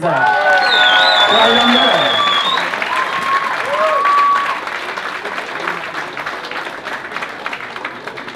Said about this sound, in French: Merci à vous pour vos applaudissements, pour votre bienveillance, tout ça.